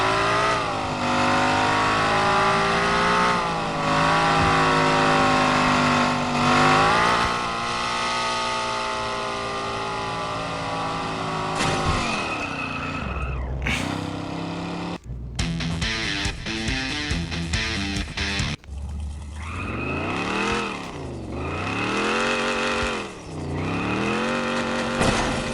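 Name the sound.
car driving and revving in a mobile car crash video game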